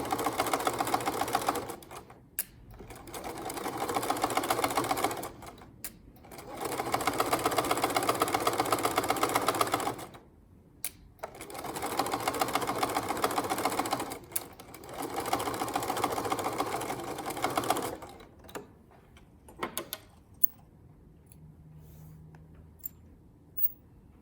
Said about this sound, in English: I pinned it together, and I'm ready to sew a straight seam.